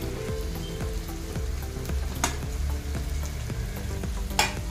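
Mutton brain frying with onion, tomato, turmeric, salt and red chilli in a kadhai, a steady close sizzle and crackle with a few louder spatters and occasional stirring scrapes, no voices.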